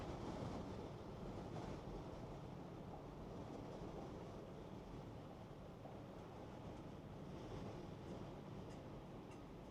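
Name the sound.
wind gusts from a passing storm gust front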